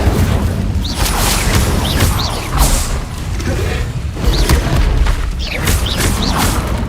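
Spell blasts in the Hogwarts Legacy video game, a continuous barrage of heavy booming impacts and whooshing bursts recurring every second or so over a dense, loud rumbling background.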